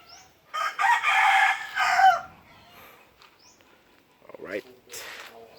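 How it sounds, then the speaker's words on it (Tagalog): A native chicken crows once in a long, loud call close by, then gives a few softer clucks and short squawks in a rural farmyard, with no talk. "Ito yung native chicken."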